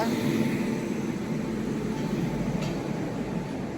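A train pulling into Coimbatore Junction, heard as a steady broadband rumble and rolling noise that stays loud and even throughout, with people talking over it.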